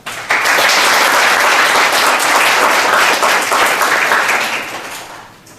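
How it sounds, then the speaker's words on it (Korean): Conference audience at a philanthropy and green growth event bursts into sustained applause, a loud dense wash of many hands clapping that holds steady for several seconds, then gradually fades out at the end. "여러분들 그 열정이 활활 탈 수 있도록 박수 한번 치시기 바랍니다."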